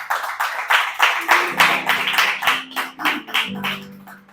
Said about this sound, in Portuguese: Aplauso para Jesus, que Ele merece.